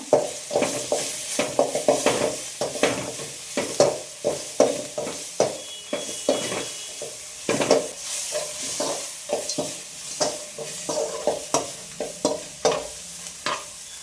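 Peppercorns and grated coconut frying in a pan, with a spoon repeatedly scraping and stirring in an irregular rhythm over a steady close sizzle.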